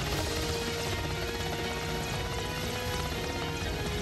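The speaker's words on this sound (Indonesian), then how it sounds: "Helikopter MI-17" An Indonesian Army Mi-17 military helicopter in flight gives a steady, broadband rotor and engine roar that stays constant throughout, with no voices.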